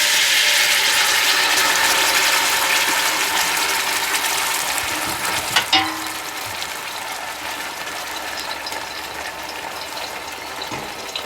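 Chile colorado sauce hits a pan of hot olive oil over medium-high heat, setting off a loud, steady rushing sizzle that slowly eases, with a faint clink partway through.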